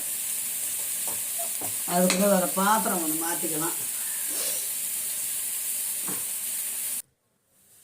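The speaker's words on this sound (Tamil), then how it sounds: "இப்போ தக்காளி நல்லா வதங்கிச்சுங்க" Steady sizzling of tomatoes sautéing in a pan for kollu rasam, with brief utensil stirring and a short burst of Tamil speech midway, cutting off abruptly near the end.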